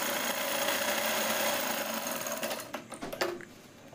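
A sewing machine runs steadily while stitching a kids' umbrella frock, its motor whirring continuously at close range before slowing into a few short, uneven bursts near the end.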